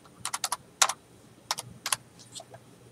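Typing a word on a computer keyboard: a quick burst of distinct key clicks in small clusters, close and crisp, with a few softer taps trailing off, no talking.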